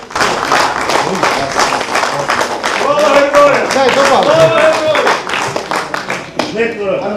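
Audience in a Boryspil city council hall applauding as two soldiers of the 25th battalion walk to the podium, sustained clapping mixed with shouts and voices throughout.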